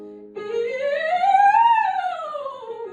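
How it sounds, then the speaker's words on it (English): A single sung, pure, airy high whistle note that slides upward, holds briefly, then glides back down, clear and unaccompanied. "that was like a little whistle note"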